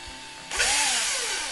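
In a video game, after a brief hum, a power drill whirs to life, its motor pitch rising and then sliding down slightly as it keeps spinning.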